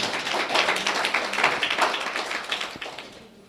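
A church congregation claps loudly together in a dense, steady patter of many hands that fills the space and tapers off slightly toward the end.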